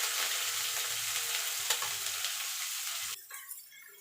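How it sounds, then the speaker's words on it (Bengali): Potato pieces and moringa drumsticks sizzle in a pan, a close, steady frying hiss with soft stirring noises that thins out near the end. "আলুটা একটু ভাজা ভাজা করে নিচ্ছি, সজনার ডাঁটাটা দিয়ে দেবো"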